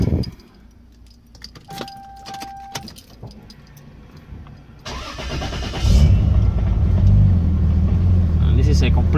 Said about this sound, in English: this is a completely cold start, and it's turning on